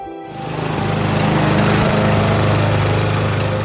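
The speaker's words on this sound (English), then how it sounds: "You're probably looking at a couple of clips right now of me mowing the front yard and doing some edging the other day." A lawn mower mows an overgrown front yard. The engine starts up and settles into a loud, steady drone right up close, with no voices.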